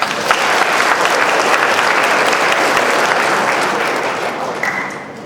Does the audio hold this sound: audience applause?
yes